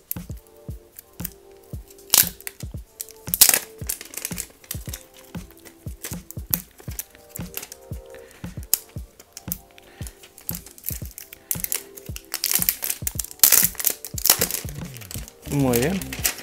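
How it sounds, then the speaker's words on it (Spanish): Unboxing a Nokia 5.1 Plus phone, its packaging case pried open with close, dense crinkling, crackling and sharp snapping clicks, growing louder and busier toward the end. "vamos a sacarlo de la funda de este estuche. Vamos a ver dónde se abre esto. Y esto va a sonar fuerte"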